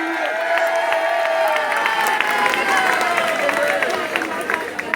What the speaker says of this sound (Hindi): जोरदार तालियां नसीम भाई